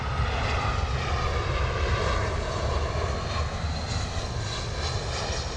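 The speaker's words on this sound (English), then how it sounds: "British Airways A319, I believe, coming in there." A British Airways Airbus A319 coming in to land at London Heathrow, its loud, steady engine roar with a deep rumble and a high whine holding for several seconds, close and continuous with no talk.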